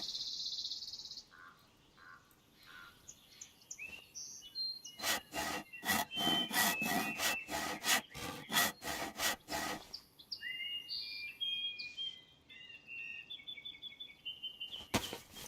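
In the video game DayZ, a hacksaw cuts in a quick run of about a dozen rhythmic rasping strokes. Quieter outdoor ambience with insect-like chirps surrounds the sawing.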